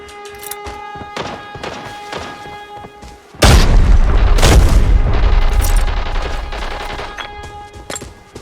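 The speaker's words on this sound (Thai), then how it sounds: "มันโดนระเบิดตัวเองตาย" A loud, booming explosion erupts in the video game Arena Breakout after scattered sharp pops, its rumble lingering and fading over several seconds with crackling debris.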